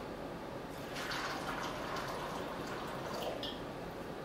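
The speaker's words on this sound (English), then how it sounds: "we will just pour the water in the bowl" Water pours continuously into a bowl of seeds set to soak for sprouting, a steady, even splashing rush that holds at the same level for a few seconds with no talking.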